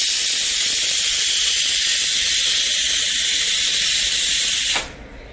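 A pressure cooker whistles while cooking dal, a loud, steady hiss of steam that goes on for nearly five seconds and then cuts off abruptly, leaving quiet.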